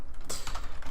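A quick burst of typing on a computer keyboard, several close key clicks packed into about a second, alone with no talk.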